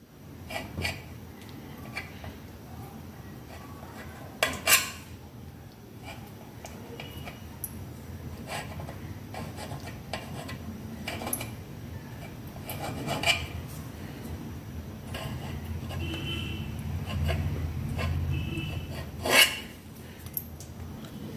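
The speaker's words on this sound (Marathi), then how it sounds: "तुम्हाला मी चाकूच्या साहाय्याने कापून दाखवते." A knife cuts through sealed wheat-flour karanji dough on a surface, making faint soft rasping and scraping with a few light clicks, close by and quiet throughout.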